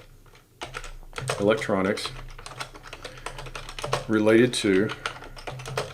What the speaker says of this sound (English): just because I'm typing this in